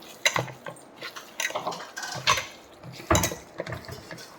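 A pan holding oil set down on a stove: a series of near metallic clanks, scrapes and knocks in uneven bursts, loud and up close, with no voices.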